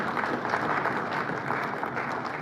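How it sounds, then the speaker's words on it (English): Steady, dense applause from a large audience at a book launch, sustained evenly throughout with no pauses. "Let's do one more big round of applause for ourselves, ladies and gentlemen."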